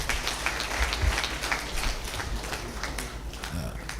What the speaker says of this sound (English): A round of applause for the general.